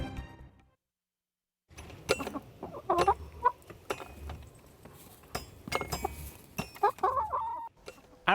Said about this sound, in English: It happens to be 11 chickens playing a xylophone in her backyard in Parker.